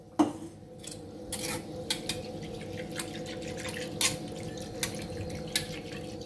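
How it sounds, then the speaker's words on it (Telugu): Curd being whisked with water in a bowl for buttermilk stew, soft stirring with clinks of a metal whisk against the bowl, a few sharper taps standing out over a faint steady hum. "ఇలా విస్కర్ తో ఈ పెరుగునంతా కూడా బాగా ఇలా బీట్ చేసుకోవాలి"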